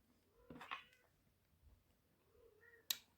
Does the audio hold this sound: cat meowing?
yes